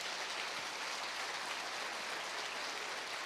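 A church congregation applauds the Lord together, a steady, dense wash of clapping that fills the space evenly and continuously, with no voices rising above it.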